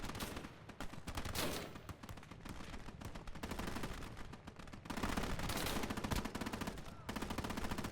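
Rapid machine-gun fire from a vehicle's rear gun in the WW2 strategy game Gates of Hell with a zombie mod, dense continuous bursts mixed with other distant gunfire and battle noise, fairly quiet overall.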